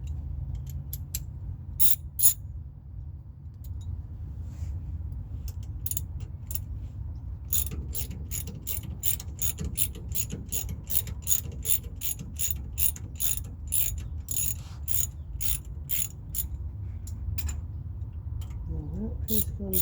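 A ratchet socket wrench from a cheap socket set turning during car brake maintenance, a long run of rapid, steady mechanical clicks over a low hum, heard close by and fairly loud, without speech over it.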